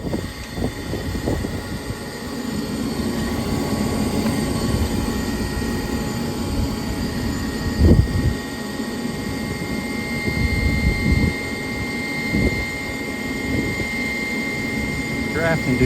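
A gas furnace inducer fan running steadily after the burner fires up, a constant broadband whir with a few knocks and faint voices in the background.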